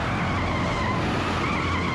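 A pickup truck with a shredded rear tire skids out of control on a road, making a loud, continuous tire roar and scrubbing noise that holds steady throughout.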